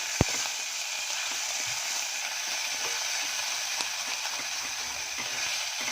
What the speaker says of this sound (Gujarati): આદુની પેસ્ટ ઉમેરી લઈશું અને એને પણ આપણે સરસ રીતે સાંતળી લઈશું.